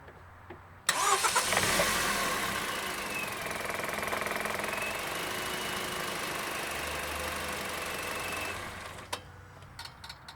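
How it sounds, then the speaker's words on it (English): A car engine cranks and catches, then runs at a steady idle for several seconds before cutting off; no voices. "it's a basic starting car sound."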